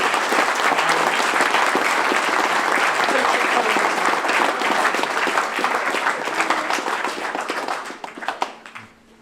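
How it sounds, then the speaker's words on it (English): An audience at a youth sports cup presentation ceremony gives sustained, dense applause that holds strong, then thins into scattered claps and fades out near the end. "So please, a round of applause for each other and all of you."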